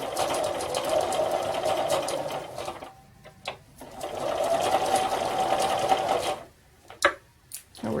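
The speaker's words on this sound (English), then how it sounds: "This time we're going to sew 1/4 of an inch on the inside of the raw edge of our print fabric." A sewing machine runs in two sustained bursts, stitching a quarter-inch seam along the raw edge of quilt print fabric, with short pauses and a few light clicks between runs.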